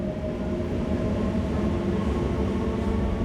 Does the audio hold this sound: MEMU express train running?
yes